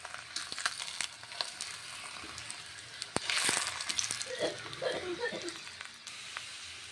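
A paratha fries in a pan with a soft, steady sizzle, punctuated by a few light clicks and a brief louder crackle partway through, fairly close and low in level.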